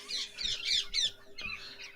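Several birds squawk close by in a quick, loud series of harsh calls with brief gaps, against a low steady background hum.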